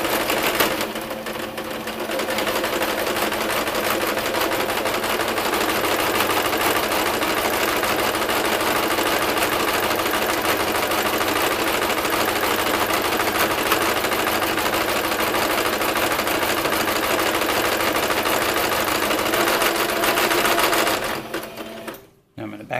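A sewing machine runs without stopping as it back stitches fabric for a rat corner hut hammock, a fast, even mechanical whir close by for about twenty seconds before halting, with a voice talking over it.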